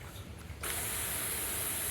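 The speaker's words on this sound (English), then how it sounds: "So that's more of like a mist." Lefree 3rd Gen expandable garden hose nozzle on its cone mist setting, a quiet moment that suddenly breaks into a steady, bright hissing spray that keeps going to the end.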